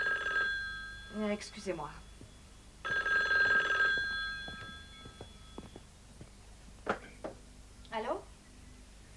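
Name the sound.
telephone bell ringing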